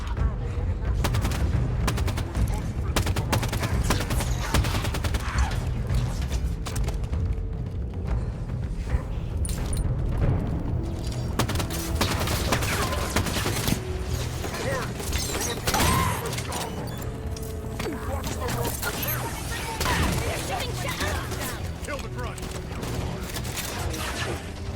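Dense, continuous gunfire in the sci-fi shooter Halo 5, with overlapping rapid bursts and heavy blasts filling the whole stretch, loud and close, with voices occasionally talking underneath.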